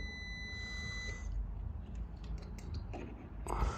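A multimeter's probes beeping during a continuity test on the board of a TCL 55C31 TV: a high, steady electronic tone sounds for about a second, then gives way to faint clicks and probe contact noises.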